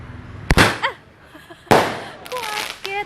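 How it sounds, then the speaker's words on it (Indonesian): Fireworks lit by a father bang twice as sharp, loud bursts, each followed by crackling and whistling streaks, with a voice reacting nearby. "Kembang api"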